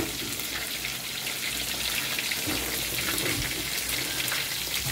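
Chopped onions, garlic and ginger hit hot oil in a pan for Sri Lankan devilled prawns, producing a constant, close, hissing sizzle that holds evenly without a break.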